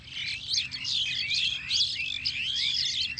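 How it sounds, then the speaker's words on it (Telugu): Loud, busy bird chirping and tweeting fills the fields, many overlapping calls in quick bursts throughout, with a steady low hum underneath and no talking. "పక్షులు చాలా పొలాల్లోకి వచ్చాను చాలా బలంగా అరుస్తున్నాయి పక్షులు"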